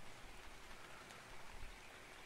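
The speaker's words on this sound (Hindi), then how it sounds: "फॉग नहीं, बारिश आ रही है, बारिश तो आ रही है पर साथ साथ फॉग भी आ रहा है।" Rain falls steadily in ARK: Survival Evolved, a soft, even hiss of drops spread across the scene, faint and continuous with no talking over it.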